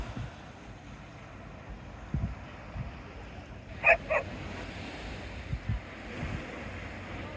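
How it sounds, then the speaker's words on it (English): Sea waves wash steadily and fairly faintly along the Teignmouth seawall on a calm day, with a low continuous surf rumble and a brief sharp bark-like sound partway through. "Should be able to hear the sea."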